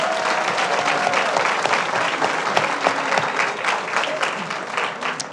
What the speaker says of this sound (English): So give yourself a round of applause for